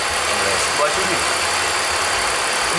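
A car engine idles steadily at close range, a continuous low rumble with faint vibration filling the whole stretch, with no voices over it.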